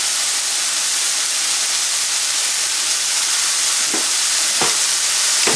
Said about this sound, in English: mushrooms are starting to cook a little bit